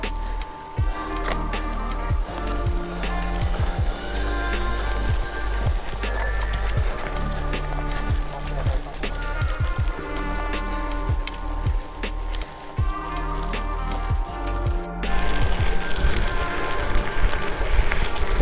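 Rain patters around a rider on a gravel bike route near Lahti in autumn, a loud constant wash mixed with tyre crunch and rattling knocks, growing brighter and louder near the end.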